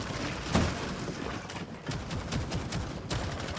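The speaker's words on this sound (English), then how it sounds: "A cacophony of gunfire relaying around that top floor" Gunfire in Rainbow Six Siege cracks out in scattered, sharp bursts across a match, with several distinct shots and quicker volleys over a busy background of game noise.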